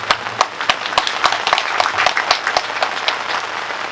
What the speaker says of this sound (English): I would clap for the principal